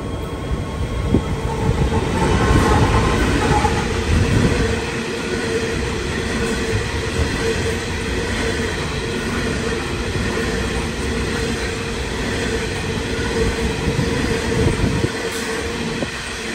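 A Sydney Trains train rolls into platform 1 with a loud, sustained rumble and rattling wheels, faint squeals mixed in, the noise holding steady before easing slightly at the end.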